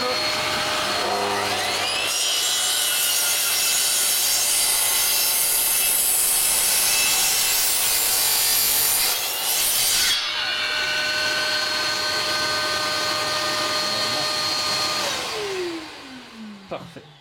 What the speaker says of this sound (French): Et on peut faire notre découpe à 25 degrés.